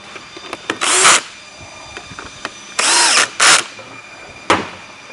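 A power drill drives bolts back into a conveyor feed module, whirring in a few short, loud bursts separated by quiet gaps with light clicks and handling noises.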